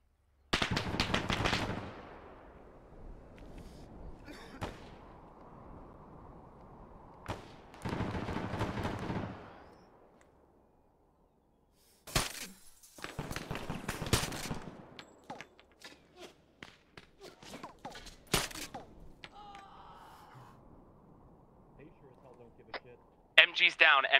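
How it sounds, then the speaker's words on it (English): Bursts of automatic gunfire come from a mosque in the Arma 3 military game, with loud sustained volleys, sharp single shots and a brief silent pause, mixed with scattered footsteps and voices talking over the shooting. "Taking fire from the mosque"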